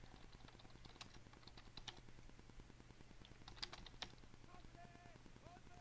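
Rapid, continuous computer keyboard typing for a Roblox game, with quick faint clicks in a steady rhythm throughout, close but quiet, with occasional louder keystrokes.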